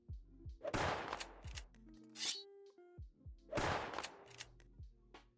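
Rapid gunfire from the Kstyle-played video game Gunz, two dense bursts of sharp shots with ringing tails and brief electronic game tones between, fairly loud and close with no talk.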